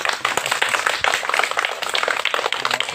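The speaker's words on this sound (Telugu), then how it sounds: "చప్పట్లు కొట్టండి అందరూ." Children clap together at a school Independence Day celebration, a dense, loud burst of rapid, overlapping hand claps that continues steadily from start to end.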